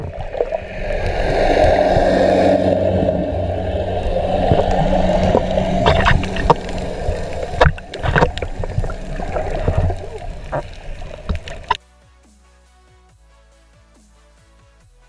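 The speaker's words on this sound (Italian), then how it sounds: "all'improvviso passa una barca a pochi centimetri sopra di lui" Boat passing just overhead an underwater diver, a loud churning propeller rumble and gurgling water that swells and fades, then cuts to near silence with faint clicks.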